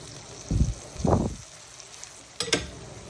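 Crab roast cooking in its own released water in a pan gives off bursts of bubbling and sizzling, three distinct surges over a low, steady simmer.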